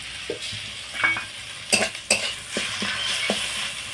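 Ginger garlic paste being sautéed with browned onions in a pan for a spiny gourd dish, a steady sizzle broken by sharp scrapes and knocks of a spoon stirring against the pan, close and without talk.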